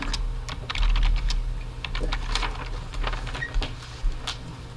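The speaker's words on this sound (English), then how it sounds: "show off my typing skills." Rapid typing on a computer keyboard during a township board meeting, a steady run of close, crisp key clicks with a few louder strikes and no talking.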